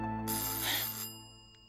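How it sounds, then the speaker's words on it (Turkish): A doorbell rings once in a home setting, a bright electronic chime heard indoors over a low steady hum, fairly faint and quickly fading. "Kapı çalıyor."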